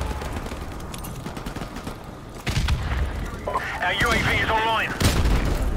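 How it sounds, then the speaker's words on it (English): Grenade blasts and bursts of gunfire in Modern Warfare Remastered, sharp booms hitting over a constant rattle of battle noise, with a voice speaking over the fighting. "I know it's throwing grenades, bro."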